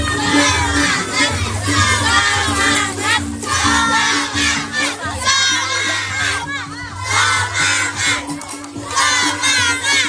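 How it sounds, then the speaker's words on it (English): Children in traditional costumes shouting and cheering runners at a Bali half marathon, a loud, excited crowd of young voices that keeps up continuous high-pitched yelling throughout. "kids decked out in their traditional costumes and just cheering"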